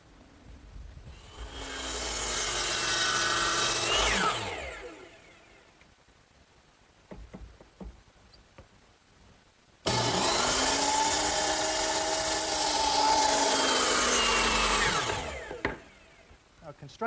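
A power saw cuts wooden cross braces for a garden swing at an angle: two loud whining cuts of a few seconds each, separated by a quiet gap with light knocks and handling noise.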